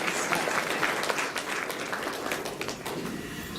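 Steady applause from an audience greeting an honoured woman guest at a Beti Bachao women's event, many hands clapping densely and evenly throughout, moderately loud with no voices over it.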